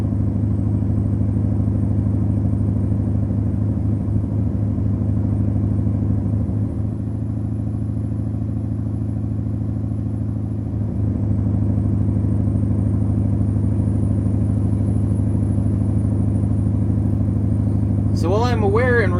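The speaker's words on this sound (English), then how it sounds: "I end up actually having to turn this engine down because it sounds really freaking loud even in the cab of the truck" A loud semi-truck diesel engine heard from inside the cab in American Truck Simulator gives a constant, deep droning rumble throughout, with a voice briefly at the very end.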